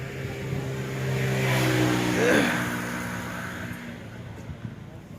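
A 1974 Massey Ferguson 135 tractor engine runs steadily nearby, a continuous low idling drone with a slight swell in the middle, while people talk over it.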